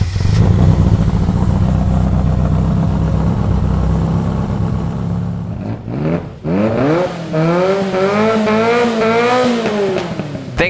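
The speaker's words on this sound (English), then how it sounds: "starting this magnificent engine to bring it to life for you viewers at home" A Ferrari F40 engine idles with a deep, loud rumble up close, cuts out briefly, then rises in a string of sharp, rising revs and drops back.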